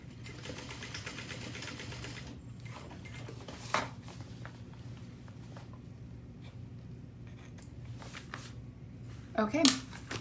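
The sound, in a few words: sewing machine basting fabric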